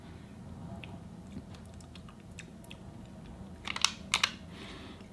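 Chewing a small piece of an insect-based aperitif snack: soft crunches and bites, with a few sharp close clicks near the end over a quiet room background.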